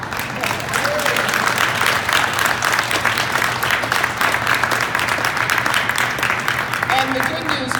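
Continuous audience clapping at a Guelph public transit funding announcement with a federal minister, a steady, full wash of applause with crowd murmur and a faint low hum beneath it.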